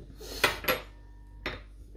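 A fork scrapes and clinks against a pan holding mashed potato champ, three sharp metallic strokes spaced apart, close and clear with no talking.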